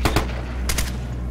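Bursts of gunfire in the tactical shooter Ghost Recon, two quick volleys at the start and another pair a moment later, loud and close over a steady low rumble of battle.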